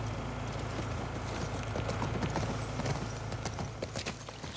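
A horse's hooves clip-clop at a steady walking pace over a low hum and background ambience in the video game The Last of Us Part II.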